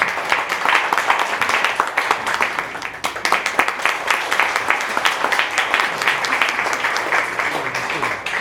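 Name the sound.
audience applause welcoming a church group to the stage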